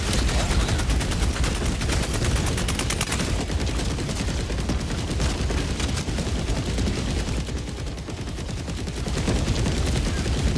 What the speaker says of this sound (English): Orbital barrage incoming.